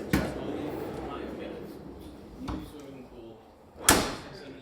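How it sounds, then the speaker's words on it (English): The button-operated sliding door of a McLaren Solus GT opens with sharp mechanical clicks and thuds spaced across a few seconds, with quiet room noise and talk around them. "the sliding door that can be opened by a button on both sides of the car"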